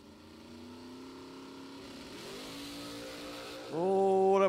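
A Mustang drag car launches and accelerates down the strip at a bracket racing event, its engine note climbing steadily in pitch before a louder, harsher roar surges in near the end.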